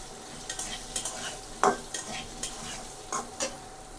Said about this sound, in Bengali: আলুটা আগে হালকা করে ভেজে নিই, তারপর হচ্ছে চিচিঙ্গা দেবো।